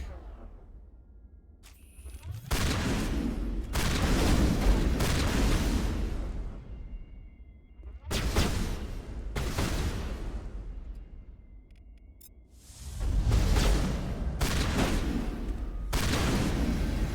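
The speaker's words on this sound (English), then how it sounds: "Garrus, why are you both using pistols?" Gunfire in Mass Effect Legendary Edition comes in long, loud bursts of heavy shots and booms separated by quieter pauses, repeating in several waves over the firefight.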